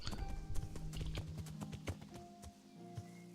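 A horse in Kingdom Come: Deliverance clip-clops in a quick run of hoof strikes that slows and thins out toward the end, close and clear.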